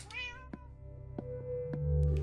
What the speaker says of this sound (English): All right, I hear you, cat.